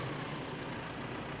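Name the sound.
tractor engine roar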